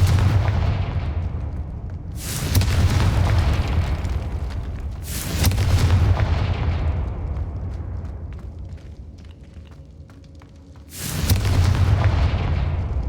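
Confringo blasting spell explosions in the video game Hogwarts Legacy: three loud, booming blasts a few seconds apart, each bursting sharply then rumbling and fading slowly, with a low steady rumble underneath throughout.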